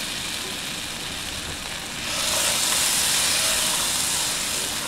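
A big spoonful of butter melting in a pan before shrimp goes in, giving a steady hissing sizzle that swells louder midway and holds at a constant level.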